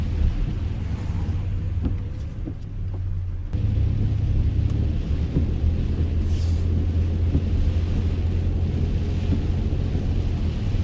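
Heavy rain pours during a cold front in Pinellas Park, a continuous dense wash with a low rumble like thunder. It grows louder after a few seconds and continues steadily with no talking.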